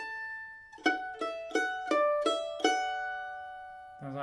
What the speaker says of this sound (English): So the first phrase of the B part, which is the first 2 bars, sounds like this.